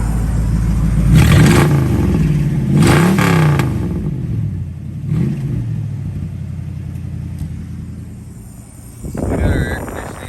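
1973 Dodge Challenger engine running: a low idle rumble broken by a few loud revs early on, then settling back to a steady idle, recorded close, with a brief voice near the end.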